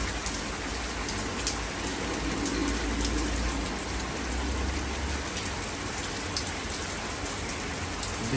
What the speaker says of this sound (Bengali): এখন বৃষ্টি একটু কমেছে, আরও 5 মিনিট আগে কিন্তু বেশ অনেক জোরে বৃষ্টি হচ্ছিল